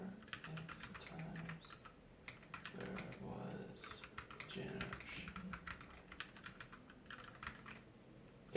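Rapid typing on a Moonlander ortholinear keyboard, with quick bursts of key clicks in an uneven rhythm, close and fairly quiet, pausing briefly between runs.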